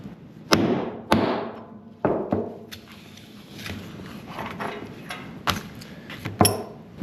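Hammer blows spreading and rolling over a tapered rivet pin while assembling a budget shed, several sharp close strikes spaced irregularly with ringing decay between them.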